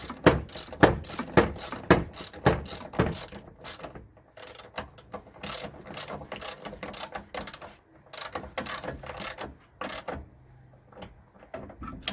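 A ratchet tightens a 14mm bolt on a new rear strut of a Toyota Corolla, giving rapid rhythmic clicking bursts close up, with pauses between strokes and no talk.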